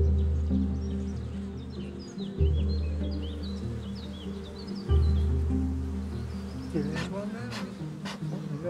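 Honey bees buzzing around a beehive, a steady, close, droning hum with pulsing swells throughout, with birds calling faintly in the background and people speaking over it.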